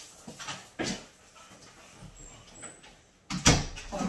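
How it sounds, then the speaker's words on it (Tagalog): Several dogs make scattered close sounds, with bursts of panting and scuffling and a couple of sharper knocks, some of them near the end. "Kulit ng mga aso."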